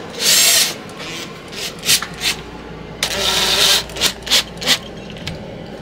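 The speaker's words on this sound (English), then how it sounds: "So I'm just gonna grab my drill and fix that." A power drill fixes a wire behind a mat inside a vintage RV, with several short loud whirring bursts separated by pauses and rubbing, handling noises between runs.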